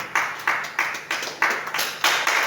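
A church congregation claps in a steady rhythm, about three beats per second, loud and reverberant in a large room, with no voices standing out.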